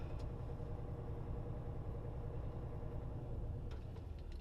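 A truck engine idling steadily while building up air pressure before coupling to a trailer, a low continuous rumble heard fairly quietly with no voices.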